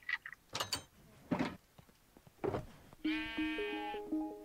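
Minecraft sheep bleat in a few short, nasal cries in a puzzle map, followed by a sustained tonal game sound, all fairly faint with no talking.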